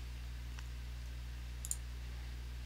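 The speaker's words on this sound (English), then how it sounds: "and then click OK" A single faint computer mouse click sounds once, sharp and brief, over a low steady hum in a quiet room.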